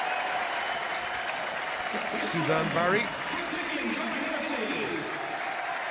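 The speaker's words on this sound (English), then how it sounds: "let's give them a very warm round of applause" Audience applause rings out for the runners-up at a schools rugby cup final medal presentation, steady clapping throughout while an announcer speaks over it midway.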